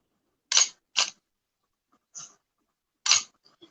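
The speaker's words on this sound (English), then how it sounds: "I will just demonstrate to you a 2-second shutter speed. So this is the shutter is going to be open for 2 seconds" Camera shutter on a single-lens reflex camera firing for a 2-second exposure: two sharp clicks half a second apart, a softer click near two seconds, then another crisp click, close and isolated against silence.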